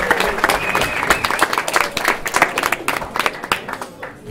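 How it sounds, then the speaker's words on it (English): Wedding guests applaud at a reception, a dense patter of many hands clapping steadily for several seconds, fairly close and continuous, with crowd murmur mixed in before it tapers off at the end. "Please let's give him an applause, guys."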